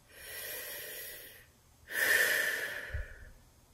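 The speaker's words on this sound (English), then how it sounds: "Just take a deep breath." Close, audible deep breathing: a long inhale and a long exhale, each about a second and a half, with a brief pause between them. A soft thump sits near the end, and there is no talking.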